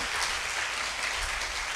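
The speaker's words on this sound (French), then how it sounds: "Acclamez le Seigneur Jésus." A church congregation applauds and cheers during a worship service, a dense, steady wash of clapping that fills the whole short stretch without a break and with no clear voices on top.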